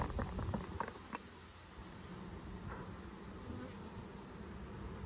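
A steady, dense buzzing of many honey bees close by in an open hive, with a few brief clicks and taps near the start.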